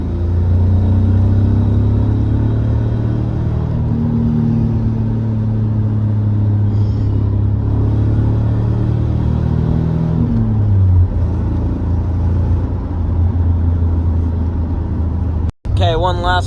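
Cabin drone of a Nissan 300ZX Z31 being driven after a Seafoam intake valve cleaning: a loud, steady low engine rumble with a slow pitch shift as the revs change, ending in a brief sharp knock.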